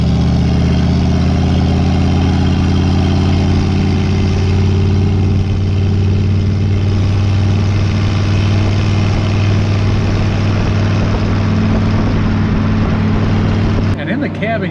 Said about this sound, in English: It's got a great exhaust note.